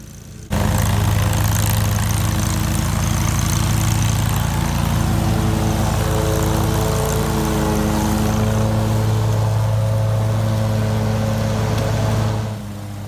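John Deere Z930m zero-turn mower mulching a lawn full of leaves, a loud, steady engine and blade drone that starts abruptly and holds close for most of the span before easing at the end.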